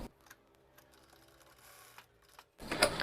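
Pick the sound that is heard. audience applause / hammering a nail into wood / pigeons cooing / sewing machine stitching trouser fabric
sewing machine stitching trouser fabric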